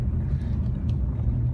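Car rolling slowly forward in drive, a low steady engine and road rumble heard from inside the cabin, with no talk.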